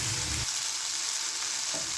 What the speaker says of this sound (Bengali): টমেটোটাকে একটু ভালো করে ভেজে নেব।